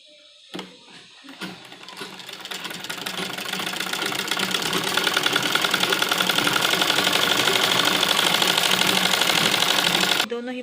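A sewing machine runs steadily for several seconds, stitching the sleeve hem of a kurti sewn from an old dupatta. The motor starts after a few soft handling clicks, hums close and loud, and builds to a fast, even whir.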